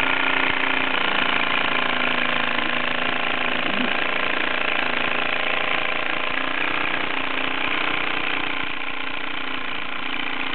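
A Luton Bowman PW202 model steam engine runs steadily with a continuous mechanical hum and chuffing, stuttering slightly as it needs lubrication, close and alone without talk.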